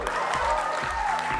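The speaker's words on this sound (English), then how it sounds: "he got a cheer for turning the machine on" A crowd cheering and applauding at the Xbox One conference, a steady dense roar of clapping and whoops filling the whole moment, fairly loud and close.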